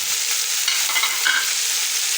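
Tomatoes, green chillies and spices fry in oil with a loud, continuous hiss, joined by a few faint scrapes of stirring partway through.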